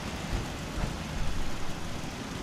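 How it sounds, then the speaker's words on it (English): Steady rain hisses evenly throughout a stretch of Fallout 4 gameplay: a dense, unbroken wash with no voices over it. "at least it's just raining here"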